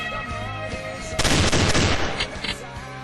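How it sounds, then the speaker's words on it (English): Loud video-game gunfire breaks out as a dense burst of rapid machine-gun shots, close and harsh, then trails off into a few scattered reports over a backdrop of music. "God, these guns are so loud."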